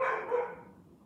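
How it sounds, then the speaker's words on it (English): A single short dog bark, fairly clear and mid-distance, fading quickly into quiet background. "Sorry about the dog barking."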